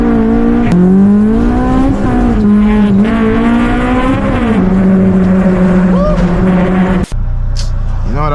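A straight-piped Honda S2000 revs hard on a city drive, its loud, raspy engine note running continuously and climbing and dipping as the throttle changes, heard up close from inside the car.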